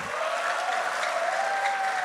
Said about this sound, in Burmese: လက်ခုပ်တီးပါအောင်လက်ခုပ်တီးပါအောင်